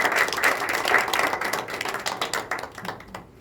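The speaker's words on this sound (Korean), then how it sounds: "우리 목사님 나올 때 힘찬 박수로 환영하도록 하겠습니다." A church congregation bursts into hearty applause to welcome the pastor, dense clapping that thins and fades toward the end with no talking over it.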